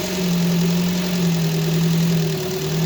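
A Chana Benni car engine idling while it warms up, a steady low hum with a faint wavering tone, loud and close, with no talk.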